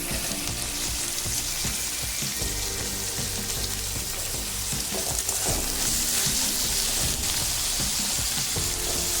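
Capsicum frying in a pan for pasta, a loud, steady, close sizzle and crackle of hot oil that continues unbroken throughout with no voices.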